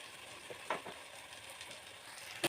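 Rice goes into a pan of fried vegetables for egg fried rice, with a faint, steady sizzle broken by a few soft clinks and scrapes.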